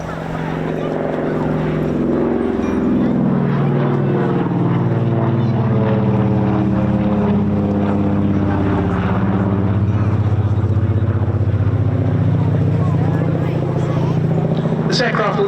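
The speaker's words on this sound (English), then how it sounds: "Running in straight in front of us, the Lockheed 12A Electra Junior." A Lockheed 12A Electra Junior twin-propeller aircraft running in straight ahead, its engine drone loud and close, rising in pitch and swelling as it approaches and holds near.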